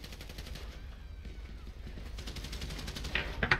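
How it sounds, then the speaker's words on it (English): Gunfire rattles in GTA 5 during a street shootout around a vehicle, with rapid bursts of shots over a low rumbling backdrop that grow louder toward the end. "Oh, Rick's shooting him up."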